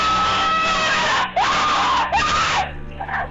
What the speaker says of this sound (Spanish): Arriba se escucharon gritos, órdenes, alaridos y ruido de cadenas.